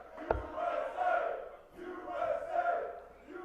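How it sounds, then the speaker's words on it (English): Darts crowd of USA fans at a USA versus Canada championship match cheering and chanting in loud rhythmic swells, with a sharp thump near the start and steady roaring crowd noise throughout. "He's given the USA fans something to cheer about."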